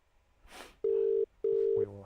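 An outgoing telephone call rings on the line during a radio broadcast: two short, steady ringback tones sound in quick succession, clear and close, after a brief rustle.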